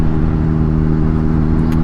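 A used motorcycle engine running while the bike is ridden home, giving a loud, steady low drone with a constant hum and no talk.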